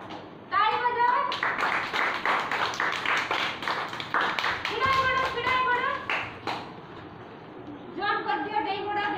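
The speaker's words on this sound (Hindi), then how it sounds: "ताली बजाओ" Children clapping their hands during a classroom game activity, with a teacher calling out instructions; bursts of close, rhythmic claps come in groups, interleaved with a voice and children's chatter.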